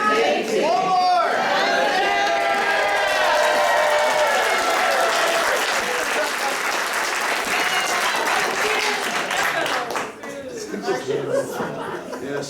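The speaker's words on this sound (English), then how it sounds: "Adoring crowds now." A live show crowd bursts into loud applause with cheers, chuckles and chatter mixed in. The clapping stays dense for most of the stretch and then thins toward the end as voices come through.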